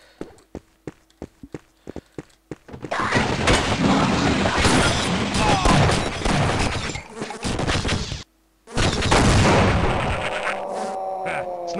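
Shotgun blasts in the game Half-Life: Opposing Force, with sharp separate shots first and then a sustained stretch of loud, dense gunfire and impacts that breaks off briefly and resumes.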